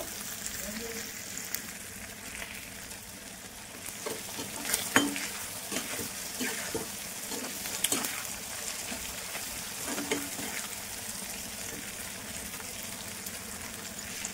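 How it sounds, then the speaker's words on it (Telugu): Food fries in a pan at home, with a steady sizzle and intermittent stirring scrapes, while a person talks faintly in the background. "అంతే అండి, ఇలా ఫ్రై చేసుకుంటే సరిపోతుంది."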